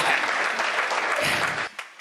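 An audience at a poetry recital claps in a dense burst of applause lasting about two seconds, then it quickly thins out and stops.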